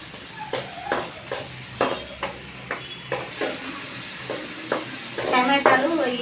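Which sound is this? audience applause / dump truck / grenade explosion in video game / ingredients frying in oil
ingredients frying in oil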